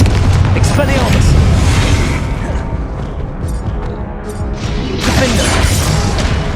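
Confringo blasting spell explosions in the video game Hogwarts Legacy, loud repeated booming bursts at the start and again near the end over continuous game noise, with a softer stretch in between.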